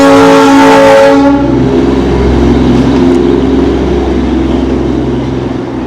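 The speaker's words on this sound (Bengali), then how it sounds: "সামনেই টয় ট্রেন কিন্তু আসছে" The Darjeeling toy train passes close by, opening with a loud sustained horn that cuts off after about a second. A heavy rumbling roll of the cars on the track follows and slowly fades.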